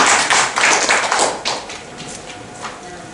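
Audience applause for Bu Lisa at a heart-disease testimonial seminar, a brief burst of clapping that swells and fades over a few seconds in a room.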